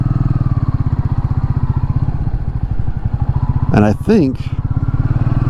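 A brand-new 2021 Royal Enfield Meteor 350 motorcycle idles close by with a steady, rhythmic thumping pulse, while a person talks briefly over it.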